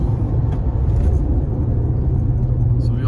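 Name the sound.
Skoda Slavia car accelerating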